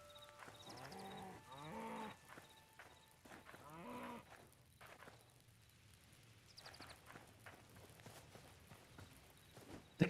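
A cow in the Hytale video game gives several close, drawn-out moos early on, followed by soft hoof-like steps and another moo near the end, all fairly quiet.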